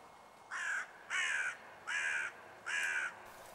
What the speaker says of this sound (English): the crows would be back very soon.